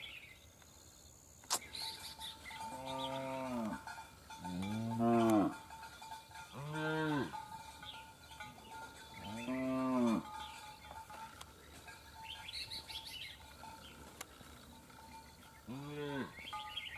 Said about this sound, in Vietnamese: Đàn bò đi lại nhiều quá nó sợ.